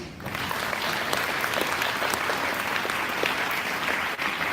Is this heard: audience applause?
yes